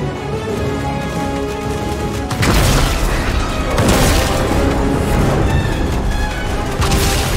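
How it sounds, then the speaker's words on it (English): Explosions from crystals detonating during the Fortnite Collision live event in the video game, loud booming bursts that erupt after a quieter musical stretch and keep rumbling with repeated blasts through to the end. "Those crystals will detonate the Zero Point."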